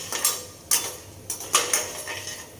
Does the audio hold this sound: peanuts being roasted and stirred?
yes